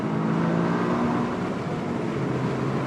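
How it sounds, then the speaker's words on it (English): Toyota GR Corolla with a small-displacement turbocharged engine, driven on a racetrack, giving a steady, subdued engine drone with a low harmonic hum held at even loudness throughout. "Very quiet engine."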